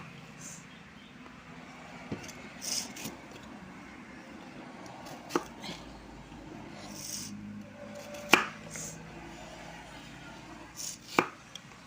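Amla, Indian gooseberries, being cut for pickle, with quiet irregular knife chops on a board, several sharper taps standing out from a soft background.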